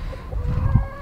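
A broody hen gives low, throaty clucks close by in a backyard flock, a few short murmuring calls within about a second.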